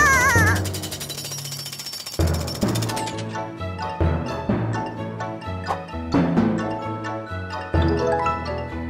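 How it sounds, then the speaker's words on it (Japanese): A loud drill in a children's cartoon hammers in rapid, rhythmic bursts, pounding and rattling close by with metallic clanks. "早くあのドリルを止めなくちゃ"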